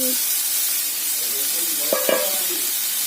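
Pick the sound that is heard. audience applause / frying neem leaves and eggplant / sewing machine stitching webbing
frying neem leaves and eggplant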